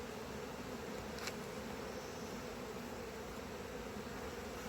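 A dense, continuous buzz of many honey bees swarming close by at an open nuc hive, steady and droning without a break.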